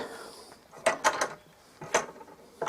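A clamp is tightened onto a glued fretwork board, giving a few short close ratcheting, creaking turns in two bursts with quiet gaps between.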